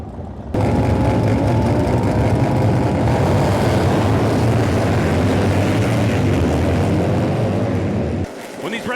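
Racing motorcycle engines on the grid at a MotoAmerica race fire up together into a loud, sustained roar that holds steady for several seconds, with a voice talking over the din before it drops away near the end.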